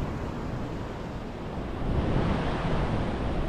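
Sea waves breaking below Colywell cliffs on the coast, a steady close roar of surf with wind buffeting the microphone, swelling slightly louder partway through.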